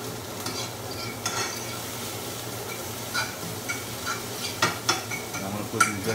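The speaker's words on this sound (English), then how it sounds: "I have my vegetables getting nice and grilled up over here." Chopped chicken and vegetables sizzle on a grill with a steady frying hiss, broken by occasional scraping and stirring clicks from a utensil, close and moderately loud with no talking.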